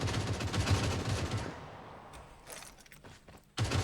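Rapid automatic gunfire from a mobile shooter video game, loud bursts at the start and again at the end with quieter scattered shots between.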